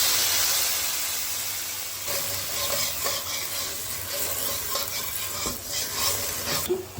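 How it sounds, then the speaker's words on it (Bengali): A paste of ginger, garlic and green chilli frying with shrimp heads in a hot pan, a loud dense sizzle that starts strong and settles into a steady hiss with occasional stirring scrapes, close by. "এইটা আমি ভালো করে ভুনবো চিংড়ি মাছের মাথা দিয়ে।"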